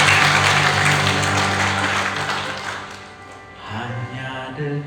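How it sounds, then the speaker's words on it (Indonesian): Church congregation at GBI Marike in Langkat applauding, a loud wash of clapping that fades out as organ or keyboard chords carry on underneath. "Kita berikan tepuk tangan untuk Tuhan."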